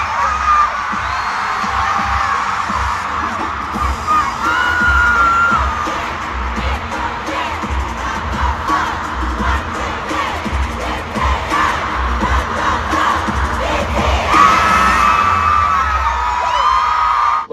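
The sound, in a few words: Concert crowd in Las Vegas cheering and chanting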